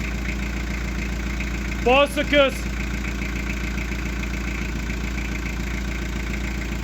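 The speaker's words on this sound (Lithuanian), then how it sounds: "Variklis dabar dirba gražiai, kaip priklauso senam dizeliukui." An old diesel engine idles steadily with a low, even rumble throughout. A voice speaks briefly partway through.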